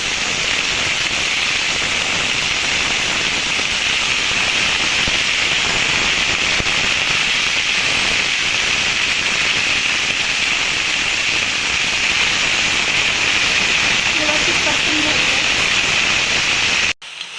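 Fenugreek leaves with turmeric sizzling loudly as they fry in a pan, a steady, dense crackling hiss that carries on unbroken and close up, with no talk over it.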